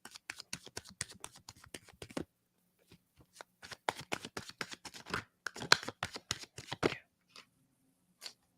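Cards riffle and snap in rapid bursts, pausing briefly before another quick round of shuffling and a few final taps.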